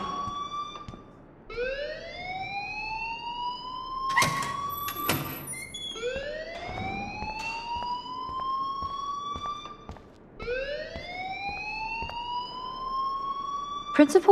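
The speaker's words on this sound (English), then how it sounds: "please turn off that alarm since that's your job" An alarm in the video game Life Is Strange wails in repeated rising sweeps, loud and insistent, with a few sharp clanks and bangs breaking in around the middle.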